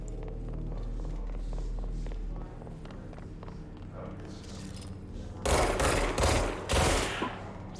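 Enemies in the video game Control burst apart in quick, loud explosive bursts near the end, following a low rumbling game soundtrack with faint thuds.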